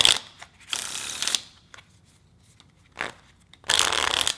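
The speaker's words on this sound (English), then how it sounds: "Then I'll get back to the riffle shuffles a bit." A new deck of playing cards is riffle shuffled in quick bursts, crisp fluttering cascades of cards close up, separated by short pauses and quiet handling.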